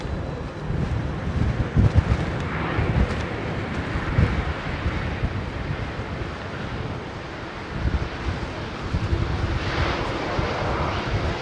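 An airliner landing at London Heathrow, heard as a sustained broad roar of engines and rushing air, fairly loud and close with wind buffeting the microphone.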